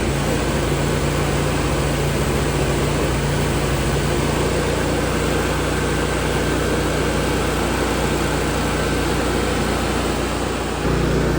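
A Lincoln Eagle welder's Kohler CH730 engine runs steadily at close range, a continuous loud low drone with a constant hum that holds for about eleven seconds before dropping slightly near the end.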